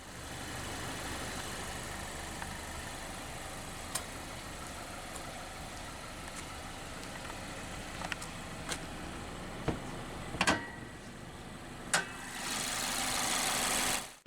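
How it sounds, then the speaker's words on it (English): Mazda MX-5 Miata RF Grand Touring, 2019, with its 2-liter Skyactiv-G naturally aspirated inline-4 idling: a quiet, even engine hum with a few sharp clicks and knocks, then a louder broadband surge near the end. "Powering the MX-5 Miata is Mazda's Skyactiv G 2-liter naturally aspirated inline-4 engine."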